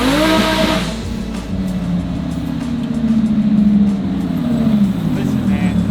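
A Lamborghini being driven hard gives a loud, close engine drone that swells and shifts pitch as it revs and accelerates, with rising and falling tones heard from inside the car.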